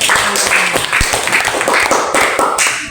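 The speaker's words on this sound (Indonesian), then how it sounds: "Iya, tepuk tangan dulu untuk." Children in a classroom clap their hands together in a quick, dense burst of overlapping claps that carries loud and close for about three seconds.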